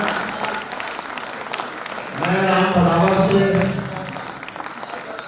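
An audience at a Hindi poetry recital in Meerut claps for the poet. Steady applause fills the room, and partway through the poet's amplified voice begins speaking over it.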